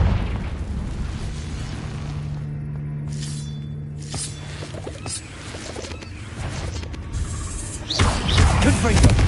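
Confringo blasting spell explosions in Hogwarts Legacy inside a cave, with a loud, sharp blast near the end over echoing game ambience, plus a few softer spell bursts earlier.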